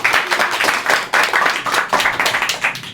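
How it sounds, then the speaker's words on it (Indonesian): Studio audience applause on a comedy talk show, steady close hand clapping from a crowd with a quick, even rhythm for a few seconds. "Tepuk tangan."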